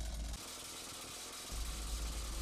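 A rock drill bores into stone while a rural road is built by hand in Rặc Rạy hamlet, a continuous, rattling hammering drone at moderate distance that drops off briefly and then resumes, with no voices.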